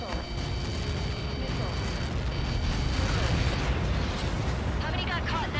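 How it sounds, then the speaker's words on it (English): Massive missile impact in the Ace Combat 7 video game, a long, loud roaring rumble that sustains throughout rather than a single sharp bang, with a faint tonal cockpit alert running underneath. "How many got caught in that explosion?"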